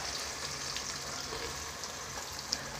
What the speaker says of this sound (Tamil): ஆயில் நல்லா சூடாயிடுச்சு. இப்போ ஆனியன் போடுறோம்.